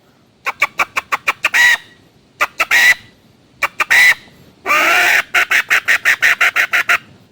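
Rapid, sharp clucking calls in quick bursts with a few drawn-out squawks, made by a wooden call imitating a hen, loud and close.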